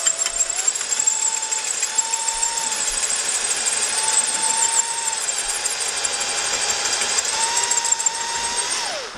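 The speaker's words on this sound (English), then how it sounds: "So we gotta drill it out." A power drill bores into a seized set screw on the combustion fan of a Harman XXV stove, giving a steady, close, high-pitched whine with slight pitch shifts under load, alone without talk.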